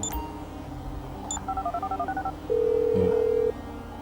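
A mobile phone in GTA 5 is dialed as a quick run of key-press beeps, followed by one long steady tone and then a short blip, with no talking.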